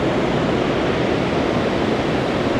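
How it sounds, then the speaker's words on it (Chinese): A small waterfall pours steadily, a dense, constant broadband rush with no breaks, close and loud and heard alone without any voices. "这边就是小瀑布啦"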